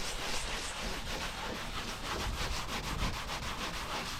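An old binder is scrubbed with a wet Scotch-Brite pad and Comet cleanser, giving a steady, close, abrasive rubbing with rhythmic back-and-forth strokes throughout.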